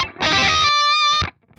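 Distorted electric guitar through a Fractal AX8 amp modeler, one short burst of saturated chord followed by a sustained, buzzing note that cuts off abruptly, loud and close with no talking.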